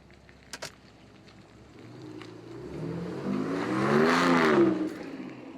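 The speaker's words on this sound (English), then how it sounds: "I'm going to back the truck up." A pickup truck's engine rises while reversing, starting faint with a couple of sharp clicks, then swelling into a louder whirring rev that peaks near the end before easing slightly.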